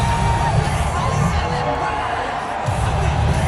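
A UFC 290 arena crowd cheers wildly for Donald Trump, a loud, sustained roar of whoops and yells that holds steady throughout.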